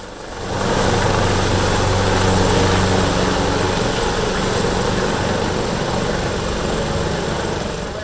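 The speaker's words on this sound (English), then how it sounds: "This is an Augusta Westland AW139, one of 3 helicopters of the type, co-financed by the European Union." An AgustaWestland AW139 multi-purpose helicopter makes a flag pass at the Malta International Airshow, its rotor and turbine roar loud and steady as it sweeps close by, swelling in and then easing slightly away.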